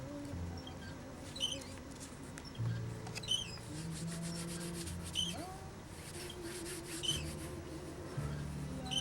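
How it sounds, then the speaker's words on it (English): Tissue covering on a Windy U Master 891 model being pressed and rubbed down with thinner, a steady close-up scratchy rubbing with repeated short strokes and no talking. "Pressing it down shoves that thinner right down, loosening up whatever's underneath it."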